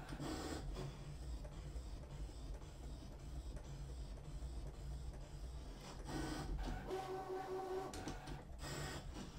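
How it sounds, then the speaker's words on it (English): Electronic craft cutting machine working through a birthday card stuck to a cutting mat, giving a steady mechanical whirr with carriage movements and a brief higher tonal whine near the end, no talking. "I can't see the machine cutting"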